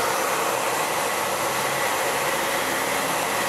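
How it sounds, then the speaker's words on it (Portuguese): A hair dryer blows on the chipped edge of an MDF board with a steady, loud broadband whoosh that holds constant throughout, with no voices. "Então você pega um secador."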